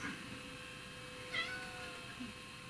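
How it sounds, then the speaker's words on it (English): A house cat gives a single short meow partway through, faint against a steady electrical hum in a quiet room. "my cat."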